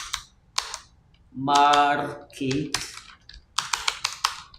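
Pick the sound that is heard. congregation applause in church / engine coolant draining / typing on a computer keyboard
typing on a computer keyboard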